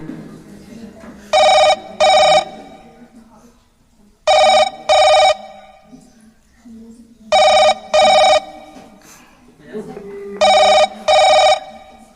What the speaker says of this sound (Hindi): विवेक शर्मा को फोन लगाया जाए कंप्यूटर जी।